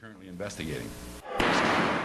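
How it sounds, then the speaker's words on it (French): Gunfire rings out during the attack on Parliament in Ottawa: a loud, sharp blast with a long, echoing tail breaks in right after a stretch of voices. "Les premiers coups de feu ont retenti"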